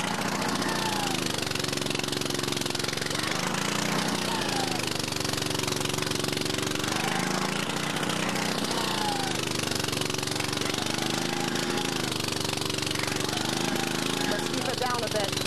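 A gas-powered post hole auger engine runs at a steady, loud, rough drone with a pulsing low throb throughout, and a voice can be heard beneath the engine noise.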